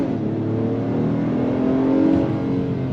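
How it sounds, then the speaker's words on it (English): A 2024 Acura MDX A-Spec SUV accelerates hard in sport shift mode from second gear, its engine note a steady, loud rising drone with a whirring tone, heard from inside and with no talk. "On throttle, here we go."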